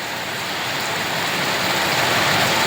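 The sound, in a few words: heavy rain falling near the Tirumala hills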